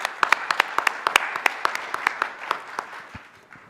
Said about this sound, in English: a quick round of applause for our judges